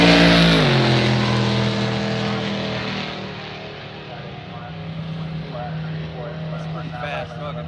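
A fast pickup truck launches hard at a Duck Tape Drags beater drag race, its engine roaring loudly up through the gears then fading down the strip while an announcer talks over it.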